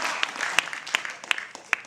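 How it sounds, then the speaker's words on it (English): Audience applause at a 2011 open government data conference talk: a patter of scattered claps with several sharper, louder hand claps standing out, fairly close and brief. "Clapping and feeling."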